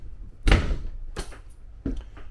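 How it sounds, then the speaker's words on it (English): A sliding barn door inside an RV rolls open and shut, giving three separate wooden thumps and knocks spaced about a second apart, close by in a quiet interior. "this neat little barn door here. It slides open and shut."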